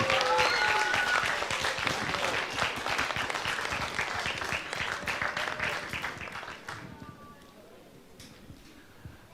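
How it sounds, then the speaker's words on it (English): An audience at a school young author awards ceremony gives dense, steady applause that gradually thins and fades over about nine seconds, ending in a few scattered claps. "a round of applause, please"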